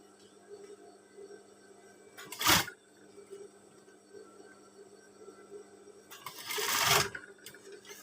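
A sewing machine stitches a school uniform in two short bursts of motor whir, close by, with a quiet low hum and near silence between the runs.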